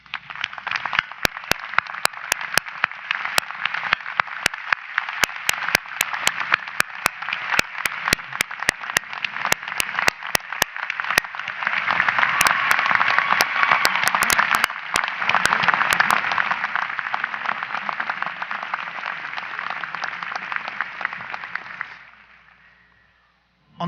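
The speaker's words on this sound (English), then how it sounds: "I ask the graduates to stand and join me in a round of applause to honor and thank your families." Graduates at a 2015 law school commencement stand and give a long, steady round of applause for their families, dense clapping from a large crowd that holds for about twenty seconds, swells midway, then fades out.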